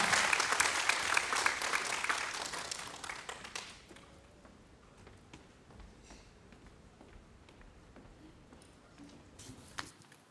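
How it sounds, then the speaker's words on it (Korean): A church congregation at an all-generation worship service applauds, dense clapping for about three and a half seconds that fades to scattered faint claps and taps in a quiet room, with a brief burst near the end. "나오실 때 박수로 환영드리겠습니다"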